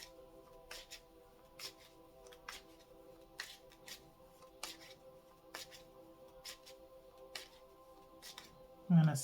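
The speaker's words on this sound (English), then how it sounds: "If something comes out while I'm light shuffling right now" Tarot cards being lightly shuffled by hand, giving a series of soft, quick riffling taps at an irregular rhythm over a quiet room hum, close and faint, with a slightly louder handling sound at the end.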